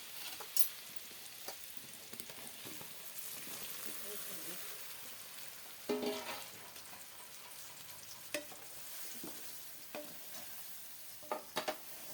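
A faint, continuous sizzle of a tempering with turmeric and asafoetida for dhokla, dotted with small pops and stirring clicks, while a person talks over it.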